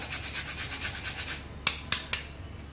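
Nutmeg grated over a fine grater for mango modak filling: a steady soft rasping of repeated strokes, then three sharper scrapes near the end, close and alone.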